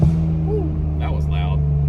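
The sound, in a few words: car accelerating hard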